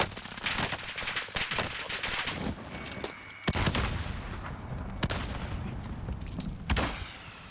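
Dense automatic gunfire with incendiary rounds in the Warzone Pacific shooter game, loud, continuous bursts and sharp reports filling the scene, with a brief lull around the middle before the firing resumes.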